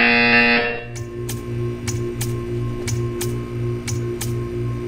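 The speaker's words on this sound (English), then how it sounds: "You will hear a buzzer." A buzzer in Portal 2 sounds sharply, then a rapid series of electronic beeps and ticks repeats at a regular pace over a low steady hum.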